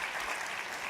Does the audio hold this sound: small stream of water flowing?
no